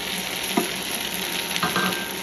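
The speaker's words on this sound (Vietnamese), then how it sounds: "Bây giờ mình cho cái chén nước sốt vào đây luôn." Sauce poured into a hot frying pan of tofu, egg and softened tomato, giving a steady loud sizzle with a brief clatter and a stirring scrape, and no voices.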